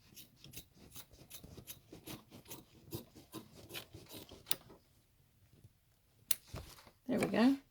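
Scissors snip through a scrap piece of vinyl with a quick run of crisp, close cuts, followed by a brief rustle of the material being handled.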